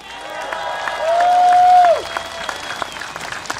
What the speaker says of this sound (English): Once again, round of applause, please